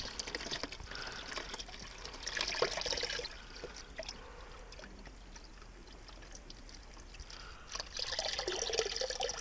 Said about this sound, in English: so that drained pretty good, except for getting it all over my pump